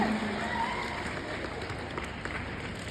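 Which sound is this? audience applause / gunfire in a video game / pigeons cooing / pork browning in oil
audience applause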